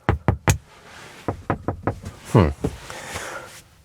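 A series of sharp thumps and clunks sound close by inside a Mercedes G580 G-Class, irregular in rhythm, with a brief voiced exclamation in the middle and faint rustling after.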